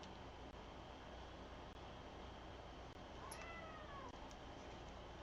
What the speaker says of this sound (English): And I have a kitty who showed up.